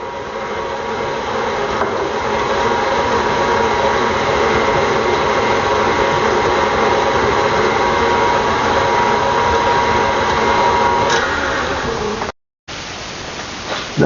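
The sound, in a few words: electric mixer blending New England brownie batter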